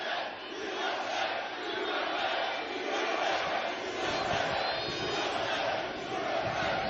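A large rally crowd shouts and roars in a dense, continuous wash of voices, steady and loud throughout with no single speaker standing out.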